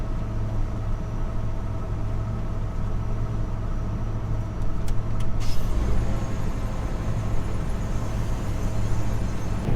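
A combine harvester's threshing mechanism runs with the thresher in neutral at harvest, producing a loud, steady mechanical drone with a low hum that never lets up, heard close and alone.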